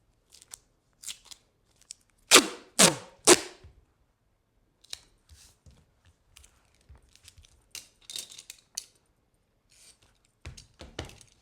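Scissors cut a 12-inch strip of duct tape down the middle for a clutch's side strap: three loud, crisp snips in quick succession, followed by faint tape handling and light rustles, no talking.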